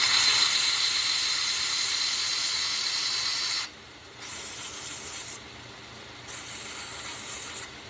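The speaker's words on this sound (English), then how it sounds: "So what I would recommend is that you just sand that off." Sandpaper rubbed over a piece of wood for an axe wedge, a close, loud, steady hissing scrape that runs continuously, then breaks into separate strokes with short silent gaps between them.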